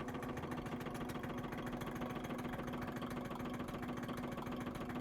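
A pressure-fed IntelliTec2 soft serve machine's mix pump runs steadily with a constant mechanical hum and a low, even motor drone, faint and unbroken throughout, with no voices.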